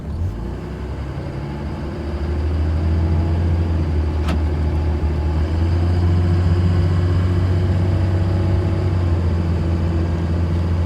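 A car engine runs steadily at low revs while being driven around the block, a deep constant hum that swells slightly after the first couple of seconds, with a brief faint click midway and no talking.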